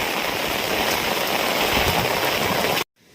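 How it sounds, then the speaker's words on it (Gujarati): Heavy monsoon rain pours down in a dense, steady roar, then cuts off abruptly near the end, leaving near silence. "ભાઈ હજી તો વરસાદ બંધ થવાનું નામ નથી લેતો."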